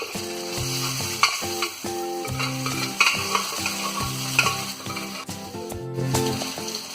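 Cooked beef, Kerala style, sizzles and fries in a pan while being stirred, with steady frying crackle broken by repeated scraping strokes of the spoon, close and moderately loud with no talking.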